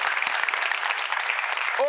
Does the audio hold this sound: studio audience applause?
yes